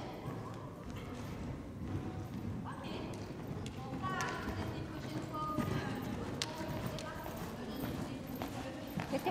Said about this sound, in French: C'était au galop de chasse?